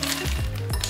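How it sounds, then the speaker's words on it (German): Ice cubes dropped into a kitchen ice bucket for chilling Prosecco, a quick cluster of bright clinks and knocks, close and loud, over soft background music. "Ich mache jetzt ein bisschen Eis in den Eiskühler."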